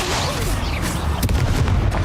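A roaring, booming burst of fire magic from the Incendio spell in Hogwarts Legacy, with heavy low rumbles and sharp cracks, loud amid combat noise.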